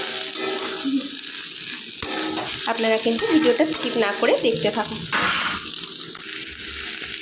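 Cauliflower fries in a pan over a gas flame with a steady, loud sizzle and crackle, joined by stirring scrapes in the middle, while someone talks over it.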